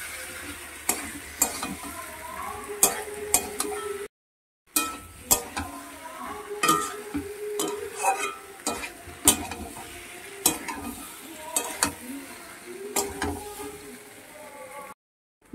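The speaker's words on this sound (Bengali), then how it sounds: "সিদ্ধ আলুগুলোকে আমি দিয়ে দিচ্ছি, মশলার সঙ্গে আমি ভেজে নেব" Boiled potatoes fry with spices in a pan, a low sizzle under frequent scraping and clattering strokes of a spatula, close up, with a brief silent gap partway and faint background music.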